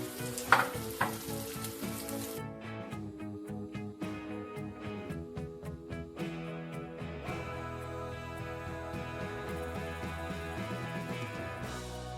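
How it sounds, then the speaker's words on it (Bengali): Cabbage rolls frying in oil make a quiet, steady sizzle, nearly buried under tonal background music throughout, with no one speaking. "আমার ভাজা হয়ে গেল"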